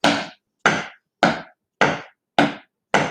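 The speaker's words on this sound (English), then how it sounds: "We're going to drum." Sticks drum on a table in six loud, sharp wooden knocks at an even, unhurried pace, each with a short decay and clear gaps between strikes, with no voices.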